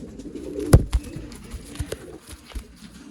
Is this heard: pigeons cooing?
yes